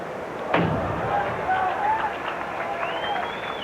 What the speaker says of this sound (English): And they applaud him every time he does that.